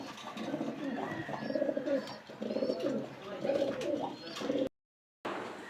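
Domestic pigeons in a loft, including a golden pair, cooing softly in repeated low, throaty phrases, faint and somewhat distant, with a short break near the end.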